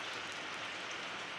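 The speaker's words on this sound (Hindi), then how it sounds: "देख रहे हैं कितना बारिश हो रहा है।" Heavy rain pours down steadily outside a home during a downpour, a dense continuous hiss of drops striking surfaces, loud and close with no break and no voices.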